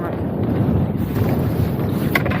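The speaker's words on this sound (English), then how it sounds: "Yeah, but it's the wind." Wind blows steadily over a small boat at sea, making a low, rumbling buffet on the microphone across the whole moment, with no voices.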